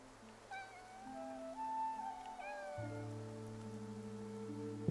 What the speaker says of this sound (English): Nikki, that cat that just passed by stopped making any sound. Stealth mode cat.